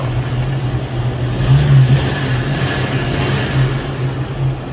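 A Jeep ZJ engine, running on a mixer gas setup after its ECU box was repaired, hums loudly and steadily, swelling briefly as it revs up and then settling back to a smooth, even drone close by.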